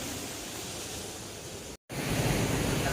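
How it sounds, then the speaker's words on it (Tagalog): Ocean waves wash against the rocky shore at Bolinao as a steady, broad roar of surf with no distinct breaks, briefly cut out for a moment. "Ganda sana ng alon dito oh"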